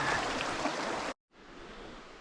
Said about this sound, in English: These are all the feeder streams coming out off Bond Cliff, West Bond, blah, blah, blah, blah, and working their way over and down.